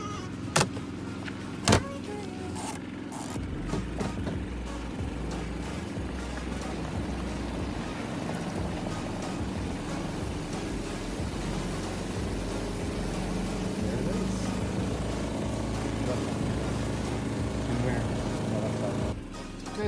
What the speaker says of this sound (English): I'm just putting the rest of the load into the spin cycle